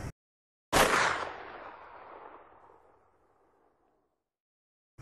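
A single loud gunshot cracks sharply after a moment of silence, then its echoing boom decays slowly over several seconds into quiet.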